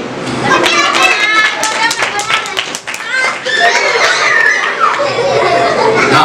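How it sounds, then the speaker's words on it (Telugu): Children clap in an eager burst at a church vacation Bible school puppet show. Dense, irregular claps mix with excited kids' chatter and shouts throughout. "నువ్వు ఏం చక్కగా చెప్పినప్పుడు క్లాప్స్ కొట్టాలా? కొట్టండి."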